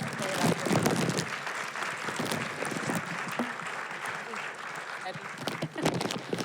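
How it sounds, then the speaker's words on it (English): Audience applause at a community conversation on immigrant justice, a dense, steady patter of many hands clapping in a room that fills the whole stretch without fading. "Can we give them a big round of applause"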